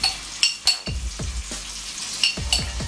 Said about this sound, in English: Going in with my butter and olive oil.